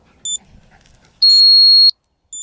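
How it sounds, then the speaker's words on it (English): A Dog Trace X30 dog tracking device gives a loud, piercing sustained beep lasting about two-thirds of a second, framed by shorter chirps before and after, with faint handling noise in between. "So beeper on this, beeper on this one. This one's deafening."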